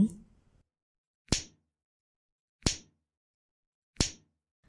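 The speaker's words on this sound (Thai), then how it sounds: "ชาติถูกอดิสาตบหลายครั้งจนเลือดกบปาก" Three sharp slaps to the face in a Thai audio drama, evenly spaced and crisp against silence, after a brief bit of speech at the start.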